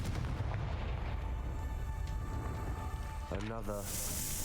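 A Confringo spell blast from the video game Hogwarts Legacy: a loud, continuous roaring burst of fiery noise that fills the whole moment, with a brief tonal sweep near the end.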